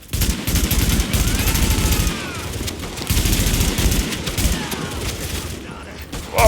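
Dense bursts of automatic gunfire and a flashbang grenade in The Division, loud and continuous, with shots crackling over one another, a brief lull, then more firing.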